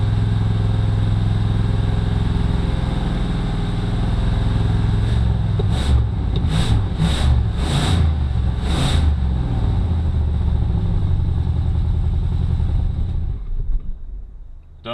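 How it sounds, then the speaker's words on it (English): A 1977 Mercury Marquis engine stuck on high idle drones steadily and loudly, with a string of sharp clicks or knocks partway through before the sound cuts off near the end. "Stuck on the high idle."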